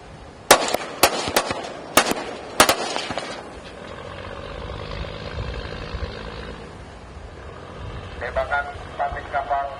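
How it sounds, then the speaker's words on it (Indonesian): A fisheries patrol boat in Natuna waters fires warning shots into the sea during the arrest of a Vietnamese fishing vessel, a burst of several sharp, loud cracks followed by a steady engine drone with more distant pops. "Tembakan ke air 2 kali."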